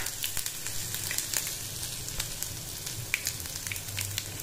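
Ginger garlic paste frying in hot oil in a home kitchen for a crispy raw banana fry: a steady, close, moderately loud sizzle with scattered sharp crackles and pops throughout.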